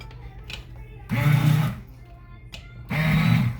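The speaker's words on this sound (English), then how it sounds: "Then you're going to go ahead and get a submergible blender." An immersion blender whirs through cooked cauliflower in two loud bursts of about half a second each, with quieter pauses between them and faint clatter in the gaps.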